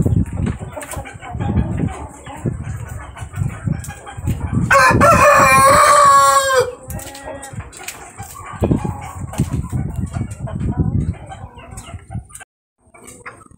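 A Brahma Dark rooster crows once, loud and close, a drawn-out cock-a-doodle-doo rising above clucking and talk from people nearby, with a short exclamation heard beside it.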